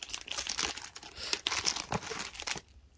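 A plastic wrapper on a bag of Japanese snacks crinkles and rustles up close, quiet but continuous, with sharp crackles before it stops abruptly.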